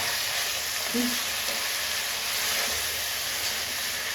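Food fries in a kadai with a constant hissing sizzle, steady and fairly close, no talking over it.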